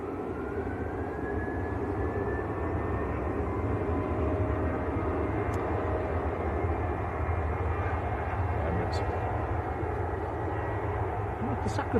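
Jet airliners, including KLM and Emirates aircraft, taxi at Manchester Airport, producing a steady low engine rumble with a rising whine heard from a distance, while a voice talks over it.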